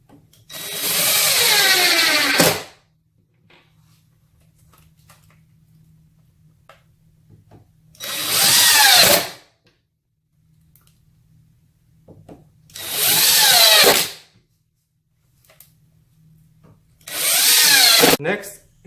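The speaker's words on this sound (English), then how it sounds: "Insert your H6 screw and tighten." A power drill drives H6 screws while assembling a KICK Symphony 55-inch foosball table, sounding in four separate loud bursts of a few seconds each, separated by quiet gaps.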